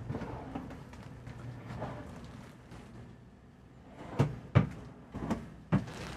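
Soft-closing cabinet doors in the AV compartment of a 2024 Newmar Ventana 3512 motorhome; several quiet muffled thumps near the end after low background rustle, no talk.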